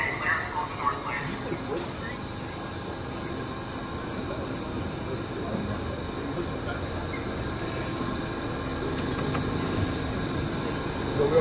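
A New York MTA local subway train, an R142, rumbles and clatters steadily along the track from inside the car, with a continuous broadband roar and faint squeals.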